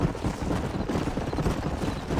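A group of horses trotting in Red Dead Redemption, dense overlapping hoofbeats in a constant rhythmic clatter, loud and near, with a brief whinny-like tone mixed in.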